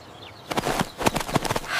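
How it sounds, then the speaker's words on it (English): A quick series of sharp, hollow taps in an irregular rhythm, like a woodpecker pecking at wood nearby, against quiet outdoor ambience. "What is making that sound? Look up. A woodpecker."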